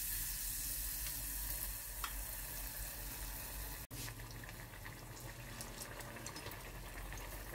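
Banana, yogurt and flour fritters fry in hot oil, giving a steady close sizzle throughout with a brief sharp knock midway.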